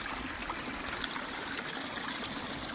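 A mountain stream gushes steadily nearby, a continuous close rush of flowing water with small gurgles and no voices.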